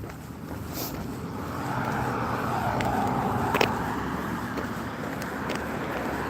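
Road traffic rumbling past steadily at moderate distance during an outdoor walk, with a broad continuous roar and some wind buffeting on the microphone.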